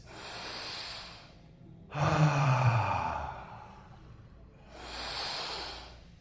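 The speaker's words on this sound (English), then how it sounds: "just take 3 deep breaths" Slow deep breathing up close: a long inhale, then a stronger drawn-out exhale, then another inhale, each breath airy and alone in a quiet room.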